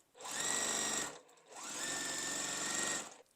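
A sewing machine stitches quilt block fabric pieces in two steady, close whirring runs separated by a short pause, fairly quiet and with no voices.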